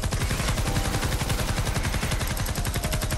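Rapid sustained automatic gunfire from a battle against a swarm of husks in the video game Fortnite Save the World, loud and continuous with dense repeated shots throughout.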